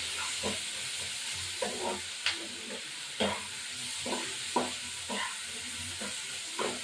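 Masala for prawn dopiaza (golda chingri) frying in a pan with ground coriander, a steady sizzle broken by repeated scraping stirs of a spatula every second or so, close by and without talk.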